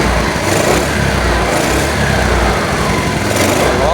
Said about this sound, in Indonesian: Stasionernya stabil, mau digas ini emang.